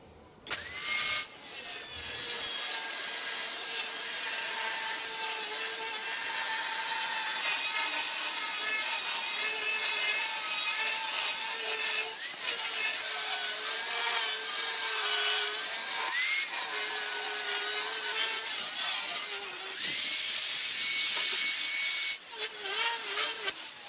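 Continuous close-up sawing through a sheet of steel being cut along a marked line to build a sheet metal bender, with a harsh, ringing, screeching rasp that runs steadily for over twenty seconds with brief pauses and no talking.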